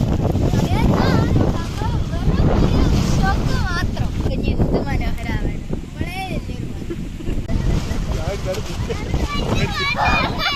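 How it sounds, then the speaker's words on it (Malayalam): Strong, storm-like monsoon wind at hilly Kakkadampoyil buffets the microphone in loud, continuous gusts. Voices can be heard talking underneath the wind throughout. "സാധാ ഒരു കാറ്റല്ല ഒരു കൊടുങ്കാറ്റിനൊക്കെ ഒരു പ്രതീതി"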